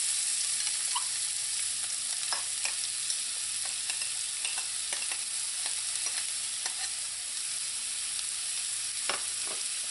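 Onions sautéing in warm oil for chicken biryani, a steady close sizzle with occasional soft clicks of a utensil stirring, continuous throughout with no talk.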